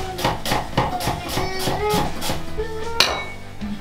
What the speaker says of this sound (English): chopping the onions